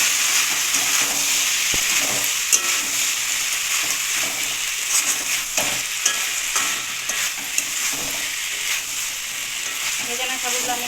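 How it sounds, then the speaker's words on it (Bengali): Soaked sago pearls sizzle in a hot pan while being stirred, a steady loud frying hiss broken by scraping strokes and light clinks of the spoon. "ভেজানো সাবুগুলো আমি এখন দিয়ে দিলাম।"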